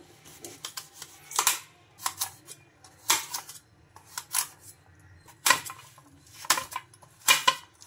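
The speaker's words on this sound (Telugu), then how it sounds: "ఇప్పుడు వీటిని చిన్నగా ముక్కలుగా అయితే కట్ చేసుకుందాం." A knife chopping fresh coconut into small pieces on a board, sharp clicking cuts landing in short clustered groups about once a second, close and crisp over a quiet background.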